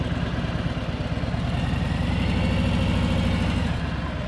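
A motorcycle engine pulls away from a standstill in a straight line as the clutch engages and the throttle rolls on, giving a steady, close, throbbing low rumble that holds loud and even throughout, with no talking.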